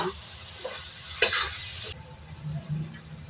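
Ground meat sizzles in a pan with onions for spaghetti while a utensil stirs it, a steady close frying hiss with a brief louder scrape near the middle and low scraping strokes toward the end.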